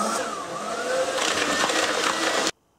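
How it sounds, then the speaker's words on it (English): A big whisk beats margarine and caster sugar in a mixing bowl with a dense, continuous scraping and churning. It runs steadily for a couple of seconds, then stops abruptly into silence. "now to mix that sugar and margarine with this big ol' whisk"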